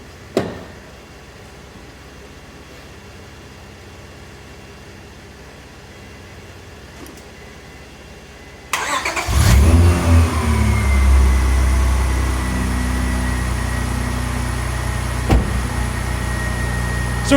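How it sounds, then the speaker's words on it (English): A Honda Accord engine cranks and fires up after a quiet pause, then settles into a loud, steady idle close by, with a brief rev and no talking over it. "So we can see our car fired right up."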